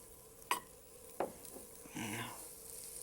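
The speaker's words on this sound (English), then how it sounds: "you hear it sizzling" Finely chopped onions hitting a hot pan of browning ingredients in a Cajun home kitchen, a couple of sharp clatters and then a soft steady sizzle, close and fairly quiet.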